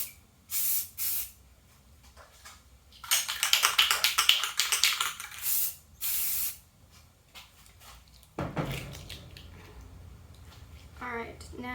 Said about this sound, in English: Just sprayed my glove.